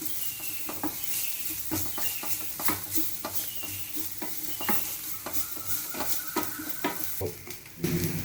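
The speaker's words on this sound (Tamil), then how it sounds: "ஏலக்காய், பட்டை, கிராம்பு, முந்திரி, சோம்பு எல்லாத்தையும் நல்லா மிக்ஸ் பண்ணிவிட்டு வறுத்துக்கோங்க" Cardamom, cinnamon, cloves, cashews and fennel roasting in a pan for chicken kurma, stirred with frequent clattering scrapes over a dense crackling sizzle, close and continuous with no talking.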